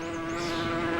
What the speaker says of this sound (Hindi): अरे यार, इन मधुमक्खियों का क्या करूं?